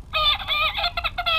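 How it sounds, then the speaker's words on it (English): A robotic Star Wars Porg plush toy lets out a short, bright, warbling chirp-like call, loud and close, broken into a few quick syllables with no talking. "why don't you all say hi to Porgbot? Porgbot, say hi"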